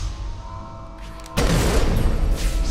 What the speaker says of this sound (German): das ist eine Explosion und kein Schuss